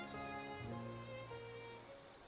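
Steady rainfall in Genshin Impact, a soft continuous patter with a faint tonal game music bed underneath, moderately quiet and unbroken.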